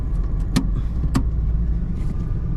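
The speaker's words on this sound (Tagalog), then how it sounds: "Traffic." Road traffic with cars passing close by, a steady engine and tyre rumble underneath and two brief louder swooshes of vehicles going past, no voices.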